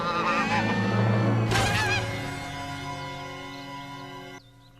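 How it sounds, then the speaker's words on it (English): Loud, close goose honking from the horror film Pearl, with several harsh, wavering calls over a background of film audio. "Is she gonna kill the goose?"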